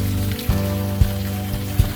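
Steady rain falls in the video game Unavowed, a continuous patter layered over a low droning hum, with a few soft dull thumps at regular intervals.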